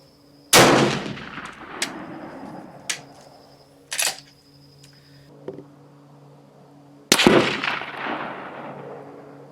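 Steyr rifle shots at an outdoor range: two loud, sharp cracks several seconds apart, each trailing into a decaying echo, with a few quieter clicks and knocks of handling in between.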